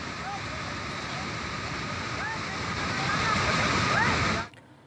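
Heavy monsoon rain in mountainous Uttarakhand sends water rushing in a loud, continuous roar with a few faint bird chirps over it, then the sound cuts off abruptly at the end.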